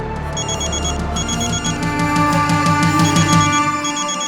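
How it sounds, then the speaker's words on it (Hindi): A telephone rings in a TV drama scene, its ringtone a loud repeating electronic melody with regular pulsing beats that continues steadily throughout. "साहिल का फोन।"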